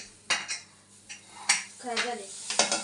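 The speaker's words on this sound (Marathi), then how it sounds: "पहिला कुकर घासून घे" Metal pressure cooker with leftover dal being scrubbed in a home kitchen: sharp clanks and scraping strokes in quick, uneven bursts, close by, with a brief voice partway through.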